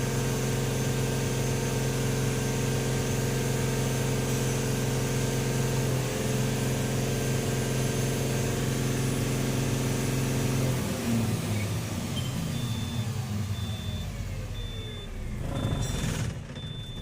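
A Cummins 4830 truck engine idles with a steady low diesel drone and whine, then the tone shifts and roughens as if revved or faltering, with a reversing-beep chirp near the end; the engine has a stop-light problem.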